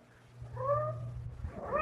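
A cat meows in a radio drama, with two rising and falling calls over a low background hum, fairly close and clear, with no talk.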